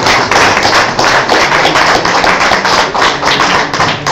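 An audience at a political event for Mexican migrants in Chicago claps loudly and continuously, a dense patter of hands sustained throughout.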